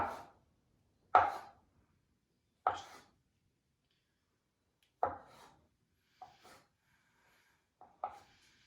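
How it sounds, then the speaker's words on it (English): Knife cutting boiled eggs into small dice for Spanish potato salad, a handful of sharp, separate chops on a board with quiet pauses between, close and fairly soft, no talking. "now we're going to cut the eggs"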